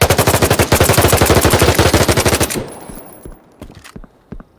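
Rapid automatic gunfire from a weapon in a video game, fired from the hip: a loud, steady burst of evenly spaced shots lasting about two and a half seconds, then a few scattered, quieter clicks and thumps.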